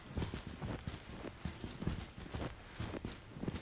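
Footsteps in Ground Branch, a tactical shooter, quick muffled thuds on a hard indoor floor that keep up a steady, slightly uneven rhythm, fairly close and alone.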